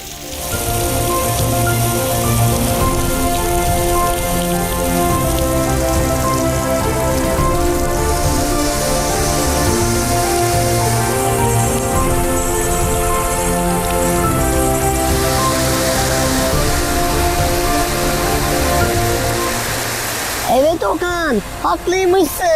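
Steady rain pours on a wooden house in a children's cartoon, a loud continuous patter under light background music, ending abruptly as it stops near the end.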